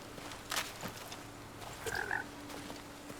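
Frog croaking in the video game Blacktail, a short throaty call followed by a brighter double croak a moment later, moderately close over a quiet ambient background with no talking.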